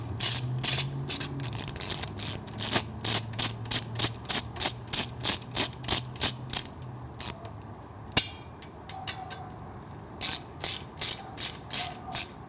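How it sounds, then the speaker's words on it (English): Rapid ratcheting clicks from a 6 mm Allen tool turning stock bolts on Triumph Street Twin competition exhaust headers, in repeated bursts with short pauses and one sharp metallic knock. "Then we can grab one of the stock bolts with the 6mm Allen."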